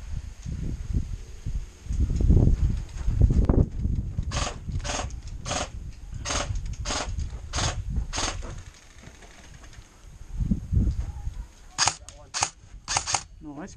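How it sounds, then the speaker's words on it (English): Rifle fire in the Call of Duty Modern Warfare video game, two bursts of sharp, evenly spaced shots, the first longer and the second a quick cluster, heard over a low background rumble. "He's shooting at me right now."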